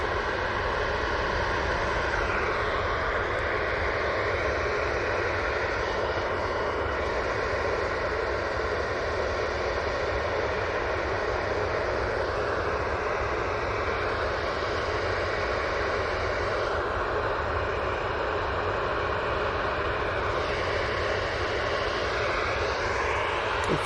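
A Ryanair airliner at Manchester Airport produces a steady, loud broadband jet roar that fills the whole stretch without letup, heard from a plane-spotting spot outdoors.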